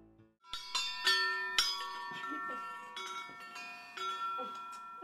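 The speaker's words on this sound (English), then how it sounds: "When patients are finished treatment, they ring a bell. It's kind of like a ship's bell" A ship's-style bell rung by a patient who has finished treatment, struck several times in an uneven rhythm, each clang ringing out and overlapping the last at moderate volume.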